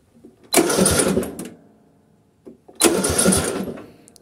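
A lawn tractor's starter motor, with a faulty relay, whirs in two separate bursts of about a second each, separated by a quiet gap with a faint click, close and fairly loud.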